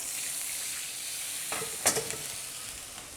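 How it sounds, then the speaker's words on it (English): Chunky ratatouille vegetables fry on an induction hob with a steady, bright sizzle. Partway through, a brief stir or scrape clatters loudly in the pan, then the even frying hiss carries on alone. "And everything cooking down nicely in here"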